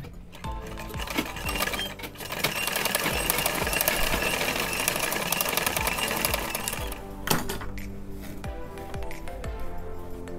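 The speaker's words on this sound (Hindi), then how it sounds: "तो नेकलाइन को स्टिच कर लिए हैं" A sewing machine stitches a blouse neckline in fine net fabric, a steady rapid whirring rattle up close that runs for several seconds, pauses, then resumes in shorter bursts.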